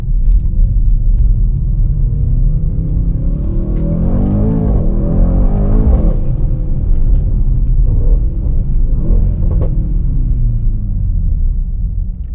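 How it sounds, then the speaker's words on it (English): A 2019 Mercedes-AMG GT 4-Door drives under steady load, its loud, close engine rumble continuous, with pitch sweeping up and dropping back as the transmission shifts through gears. "when you're driving this, it sounds incredible, especially the fact that you can hear that transmission thunk every single time that you shift"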